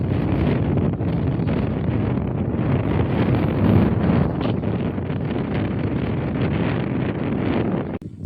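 Steady, heavy wind buffets the microphone, a constant roaring rumble with no voices.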